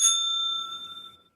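A bicycle-style bell rings once as a sound effect in a high-school radio play, a bright sharp ding whose clear metallic tone rings on and fades over about a second, with nothing else heard.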